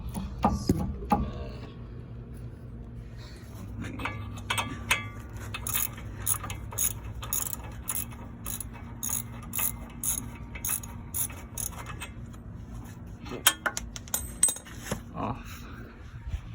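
A ratchet wrench loosening a screw on a Chevy Silverado truck tie rod gives bursts of quick clicking with metallic clanks and some rattling in between, close and moderately loud, and a voice talks briefly.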